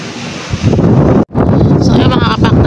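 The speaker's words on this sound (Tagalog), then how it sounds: "malakas yung bagyo dito sa Lynn Farm" Strong storm wind roars and buffets the microphone on a flooded farm during a typhoon, a loud continuous gusting rush with rain, briefly cutting out midway before resuming.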